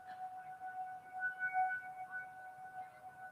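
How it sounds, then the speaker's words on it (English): A faint, steady siren hums in the distance, holding two sustained tones over low background rumble. "I don't know how loud that siren's getting picked up."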